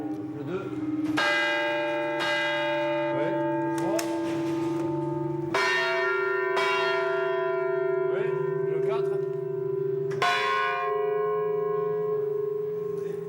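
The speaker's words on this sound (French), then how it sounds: "C'est le jour de la révision des cloches." Large church bells, mechanically activated during a bell inspection, toll repeatedly, several loud strikes at uneven intervals, each leaving a rich, sustained ringing that overlaps the next.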